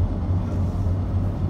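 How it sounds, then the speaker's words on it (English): Road traffic near Crater Lake National Park in Oregon, a car's low engine rumble and tire noise droning steadily close by for a moment. "Traffic too."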